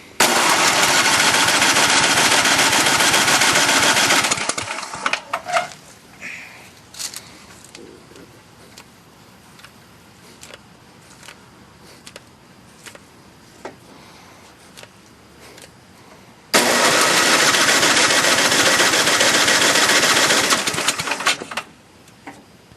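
A long-unused John Deere 1026 tractor engine is cold-started, making two long, loud bursts of cranking and rough running, close up, with a quieter pause between them.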